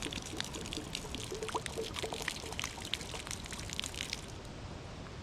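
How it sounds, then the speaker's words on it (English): Tap water being poured out of a bottle outdoors on a mountain road, a soft, irregular splashing trickle heard faintly and continuously. "Time to dump out my nasty tap water."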